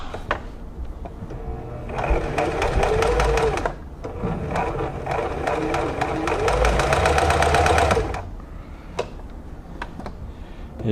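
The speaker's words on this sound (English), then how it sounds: "it is the machine workings that are making noise" A Kenmore 385.12912 sewing machine runs in two bursts of several seconds each, a busy rattling mechanical whir with a rhythmic clatter from its workings, separated by a short pause and followed by a few faint clicks.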